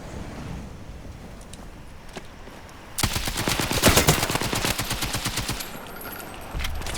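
Sustained machine gun fire in the video game Battlefield RedSec, a rapid burst of shots that begins suddenly after quieter ambience and rattles on for several seconds, loud and close.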